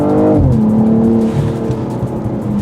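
A 2022 BMW M240i (G42) launches hard, its engine roaring loud and close as it climbs through the revs, with a gear change and steady pull following.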